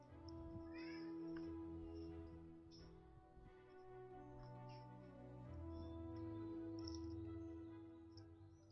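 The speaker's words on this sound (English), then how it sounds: "I need to see what my cat's meowing about." A house cat meows repeatedly at moderate distance indoors, with steady sustained background tones running underneath throughout.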